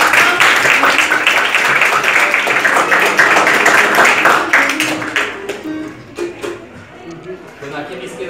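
An audience at a Baroque music week event applauds a performer, a loud burst of many hands clapping that gradually tapers into sparse claps while a voice starts speaking near the end.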